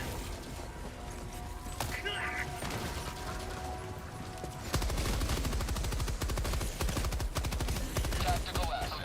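Rapid automatic gunfire bursts from the video game Earth Defense Force 5, growing denser and louder halfway through, with voices and in-game radio chatter mixed under the shooting.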